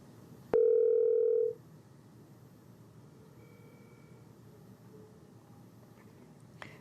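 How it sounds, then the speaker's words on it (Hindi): A telephone line gives a loud, steady tone lasting about a second right after a call drops, then leaves quiet low background hiss with a few faint blips. "फोन लाइन डिस्कनेक्ट हो गई है"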